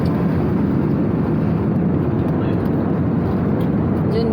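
Steady broadband roar of a Philippine Airlines jet cabin in flight, a continuous low rumbling hum and airflow hiss holding at an even, fairly loud level throughout with no distinct events.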